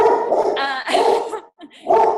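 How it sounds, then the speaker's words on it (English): A dog barks several times in quick bursts, loud and close, with a short pause before a final bark. "He's showing that through his barking."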